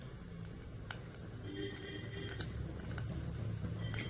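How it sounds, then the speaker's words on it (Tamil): Sesame oil sizzles and crackles as it heats in a clay pot, a steady frying hiss with scattered small pops that grows slightly louder over a few seconds, with no voices. "நான் வந்து ஒரு மண் பாத்திரம் வச்சுருக்கேன். இதில் வந்து நான் நல்லெண்ணெய் வந்து சேர்த்துக்கிறேன்."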